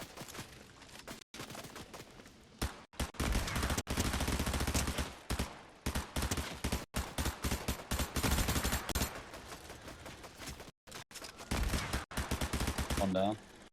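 Loud, sustained automatic gunfire in a video game, long rattling bursts separated by brief gaps, close and dominant throughout with little else audible.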